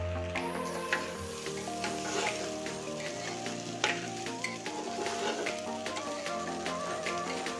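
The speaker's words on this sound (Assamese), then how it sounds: "আমি এইখিনি ধুনীয়াকৈ অলপ ভাজি ল'ম" Steady sizzling and crackling of goat meat frying with chili, spices and salt in a hot pan, with occasional stirring scrapes, close and continuous.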